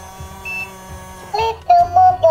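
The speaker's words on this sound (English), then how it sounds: "The CT detector will start in 1 second." A toy CT scanner powers up with a short series of electronic beeps and tones, starting with a faint chirp and then several louder bleeps close by, with no talk over them.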